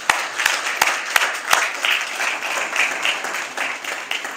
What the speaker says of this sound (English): Round of applause for her though